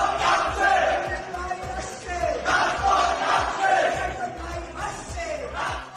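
A large student crowd at Madhu's Canteen, Dhaka University, chants slogans in loud rhythmic surges, voices rising and falling together in repeated waves with a dense crowd roar underneath.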